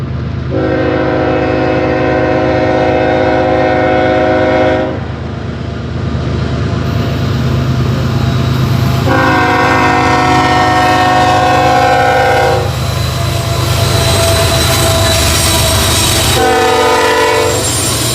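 Norfolk Southern train running through town on the main line at night, its loud chordal horn blowing several long blasts over a steady heavy rumble of rolling cars, near and powerful.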